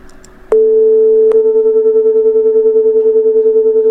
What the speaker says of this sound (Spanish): Nuevamente se escucha el batido, pero es mucho más rápido.